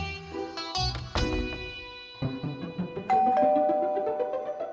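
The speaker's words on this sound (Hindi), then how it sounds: "बाप रे, कितनी घंटी बजती है इस घर में।" A house doorbell chimes repeatedly, several ding-dong tones pressed in quick succession, ringing clearly and loudly with lingering tones.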